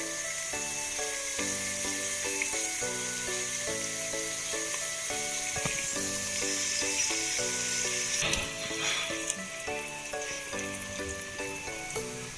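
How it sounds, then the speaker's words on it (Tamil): Onions frying in a pan for chicken biryani make a steady, loud sizzle throughout, while music plays behind it and a brief clatter sounds near the middle. "நல்லா ஆனியன் நல்லா ஃப்ரை ஆகிட்டு இன்னும் ஒரு 2 மினிட்ஸ் வெயிட் பண்ணால் நல்லாவே ஃப்ரை ஆயிரும்"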